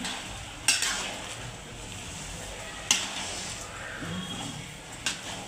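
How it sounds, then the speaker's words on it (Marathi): A spoon scrapes and stirs through carrot halwa in a pan as sugar and cardamom powder are mixed in, with a soft sizzle underneath and a few sharp clinks against the pan. "एवढं टाकणार आहे विलाईच पावडर आणि एक वाटी साखर मिक्स करून घेऊया"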